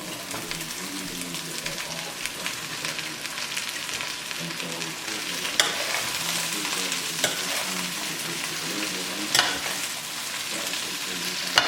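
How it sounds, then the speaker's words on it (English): Cabbage frying with onions in a pan, a steady close sizzle with intermittent stirring scrapes and a few sharp clinks, continuous throughout. "You're gonna add the cabbage on the pan right away."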